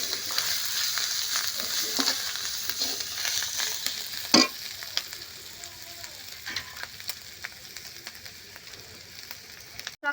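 Turmeric and chilli powder fry in a pan for a rural-style taro leaf and prawn dish, giving a soft continuous sizzle with spatula scrapes and one sharp clack partway through, close by and without speech.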